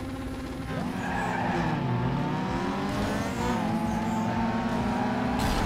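Car tires skid with a sustained squeal while drifting in Need for Speed Underground 2, over a loud, continuous engine roar that rises and falls in pitch, with no voices.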